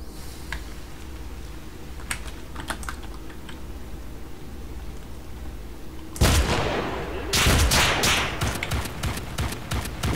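Enemy gunfire in the video game Radiophobia 2 crackles as scattered sharp shots, then a loud, dense burst of rapid fire takes over partway through.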